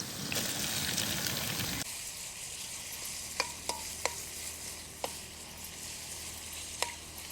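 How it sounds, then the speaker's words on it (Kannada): Onion, green chilli and mint frying in a pan for a quail egg curry: a loud sizzle at the start settles into a steady softer fry, with a few light clinks of a spoon against the pan. "ಶುಂಠಿ ಬೆಳ್ಳುಳ್ಳಿನ ಒಂದು 5 ನಿಮಿಷ ಈ ರೀತಿ ಫ್ರೈ ಮಾಡ್ಕೋಬೇಕು."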